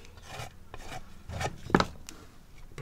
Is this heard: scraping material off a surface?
yes